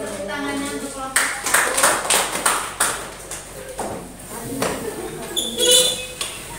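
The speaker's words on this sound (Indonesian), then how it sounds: "Tepuk tangannya untuk kelompok" Classroom audience in a microteaching session clapping for a student group, several bursts of applause mixed with voices, fairly close and moderately loud.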